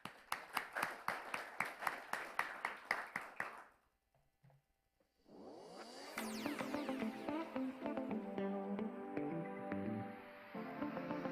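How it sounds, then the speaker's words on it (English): A burst of rhythmic clapping is followed by a short pause, then swelling applause from a crowd with musical tones mixed in. "let's welcome to the stage with a big round of applause our moderator for this panel, Ms. Peggy Cruz."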